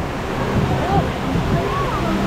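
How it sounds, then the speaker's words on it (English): Steady rushing water noise from the waterfall at Disneyland's Blue Bayou restaurant beside the Pirates of the Caribbean ride, a continuous wash filling the background with faint voices over it. "Waterfall."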